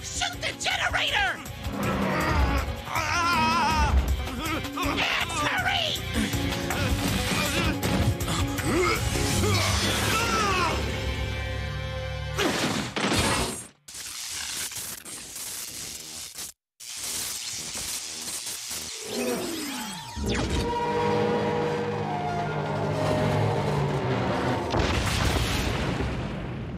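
A generator being shot and blown up in Mega Man Maverick Hunter X, with dense booming blasts and crashes over game music, a brief dropout and then more explosive rumble.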